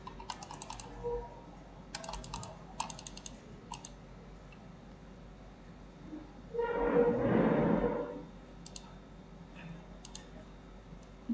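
A computer mouse is clicked in short, quick clusters of crisp ticks, near and faint against a quiet room hum, with a louder rustling noise partway through.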